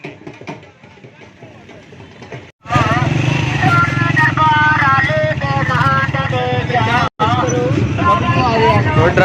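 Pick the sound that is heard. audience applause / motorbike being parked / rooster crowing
motorbike being parked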